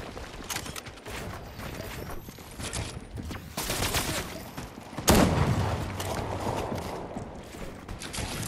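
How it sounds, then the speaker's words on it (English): Gunfire in an online shooter game, rapid bursts and mechanical clatter throughout with a sharper, louder blast midway, dense and continuous under busy game noise. "I'm near somebody shooting at me, but I don't see where he's at."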